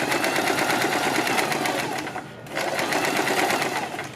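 A sewing machine runs in a fast steady stitching burr while sewing pin tucks on kurti fabric, briefly pausing midway before resuming at the same close, loud pace.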